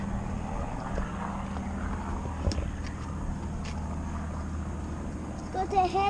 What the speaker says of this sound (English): That's not a normal aeroplane, is it?